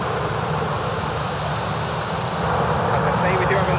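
A VistaJet taxis at an airport with a loud, steady engine roar and rumble heard from outside, and someone talks over it.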